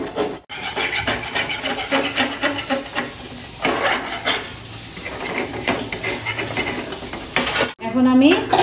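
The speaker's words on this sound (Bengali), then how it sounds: "ঠিক এভাবে আমি পুরোটা কড়াই এভাবে পরিষ্কার করে নিব। আস্তে আস্তে চেঁচে চেঁচে" A burnt, blackened kadai wok on the stove is scraped clean by hand with a metal tool, giving loud, close, grating strokes in a steady rhythm. Brief pauses break the strokes, and no one speaks.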